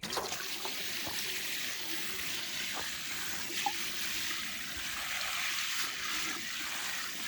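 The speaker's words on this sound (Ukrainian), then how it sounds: "Тепер проливаємо водичкою." Water pours steadily onto freshly planted one-year grape saplings with bare roots, a soft continuous splashing and trickling into soil, close and moderate, with no talk.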